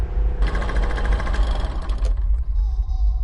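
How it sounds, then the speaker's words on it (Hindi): A motorcycle engine sputters in rapid, uneven chugging bursts, loud and close, then cuts out abruptly and stalls, leaving a low fading rumble. "इसी दौरान बाइक फिर से झटके खाने लगी और बंद हो गई।"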